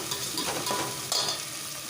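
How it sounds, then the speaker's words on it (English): Mutton curry with green coriander, mint and soaked basmati rice is stirred in a sizzling pan, a steady frying hiss with scraping spoon strokes close by. "Stir this all well."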